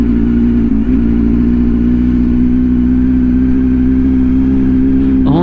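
A Honda NC 750 motorcycle engine runs at a steady idle, close and loud, with a constant low throbbing hum. A faint rise comes right at the end.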